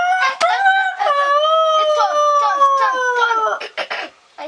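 Human voice mimicking a chicken, a long wavering crow-like call held for several seconds and then broken into short choppy bursts, loud and close.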